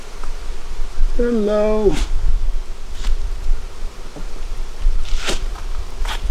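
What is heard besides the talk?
honey bees buzzing in a packed beehive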